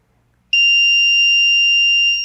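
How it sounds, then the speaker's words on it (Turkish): After a brief silence, a loud, piercing electronic buzzer tone from an obstacle sensor on a hobby electronics project switches on and holds steady to the end. "Sensörlerinde engel olması durumunda buzzer'dan uyarı zil sesi alıyorum."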